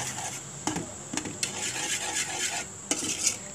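A spoon stirring kheer, rice in milk, in a pot, with soft swishing and several light clinks against the metal, close by with no voices.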